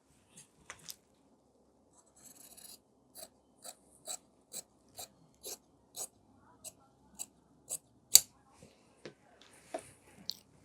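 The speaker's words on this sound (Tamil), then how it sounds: "இப்போ பேக் போட் நெக் வந்து பேக் நெக்கை கட் பண்ணி விட்டுறலாம்." Scissors snip through blouse fabric along the back neckline in a steady series of short, crisp cuts, close and fairly quiet with small pauses between strokes.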